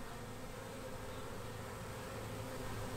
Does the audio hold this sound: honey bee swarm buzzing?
yes